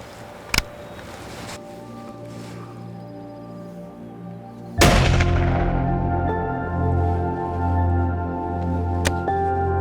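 A single rifle shot fired at a bear during a hunt in Idaho, a loud sharp crack near the middle followed by a long ringing decay over low rumbling background, with a smaller sharp click earlier.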